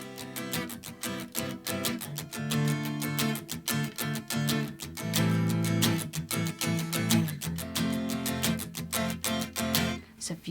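Acoustic guitar strummed in steady sixteenth notes with rhythmic left-hand squeezing that chokes and releases the chords, giving a pulsing, percussive rhythm; close and clear, played alone for a pop song arrangement.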